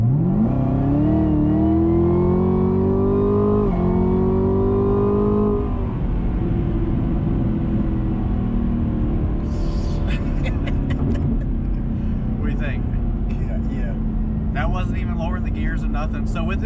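A 2021 Chevrolet Camaro ZL1 1LE accelerates hard from a 40 mph roll, its loud engine climbing steeply in pitch through a gear change, then settling into a steady, heavy drone with faint clicks and rattles near the end.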